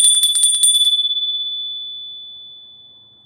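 A bell rung rapidly several times in a loud, close burst, then one clear ringing tone sustains and slowly fades over a few seconds, with no talking.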